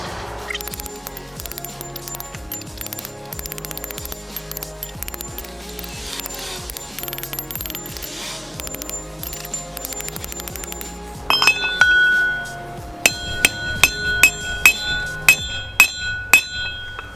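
Repeated metallic hammer taps driving a trailer wheel bearing in ring out with a clinking, bell-like tone, irregular at first and then settling into steady, evenly spaced strikes near the end.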